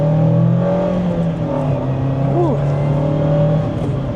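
A 181 hp Mazda Miata accelerating from second gear, its engine droning loud and steady from inside the car, the pitch holding, with a voice talking faintly underneath.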